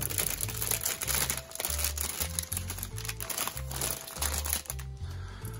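Plastic packaging being crinkled and handled up close, with bursts of loud crackling and rustling in irregular handfuls over several seconds, with no voices.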